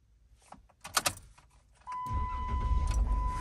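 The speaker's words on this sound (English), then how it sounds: "So it tells me to start the vehicle first. Yay. And start engine." A Jeep JK engine starts after a few faint clicks and key sounds, catching abruptly and settling into a steady, close idle that continues to the end.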